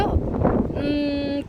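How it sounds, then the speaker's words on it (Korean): Strong gusting wind buffets a microphone on a rooftop in Busan during a storm, a loud low roar for the whole stretch, with a brief steady tonal hum partway through. "지금 바람 소리 들리시죠? 굉장히 바람 많이 붑니다."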